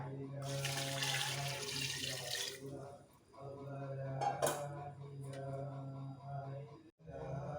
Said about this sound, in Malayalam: ആ മുക്കാൽ കിലോ അരിക്ക് വേണ്ട വെള്ളം അതിലേക്ക് ഒഴിച്ചു കൊടുക്കുക കേട്ടോ